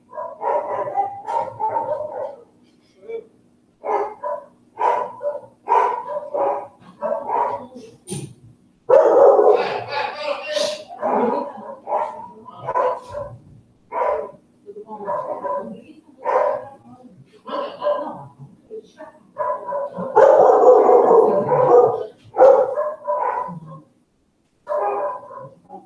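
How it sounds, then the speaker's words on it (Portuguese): Several dogs barking in loud, rapid bursts close by, a steady string of barks over about half a minute, with people talking at times under the barking. "Acalma os cachorros aqui."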